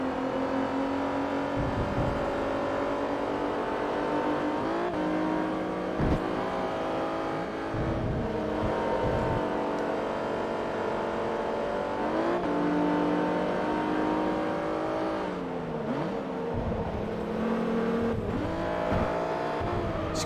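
A racing car engine in Forza Motorsport 3 roars steadily throughout, its pitch climbing and dropping with gear shifts, loud and close with no talking.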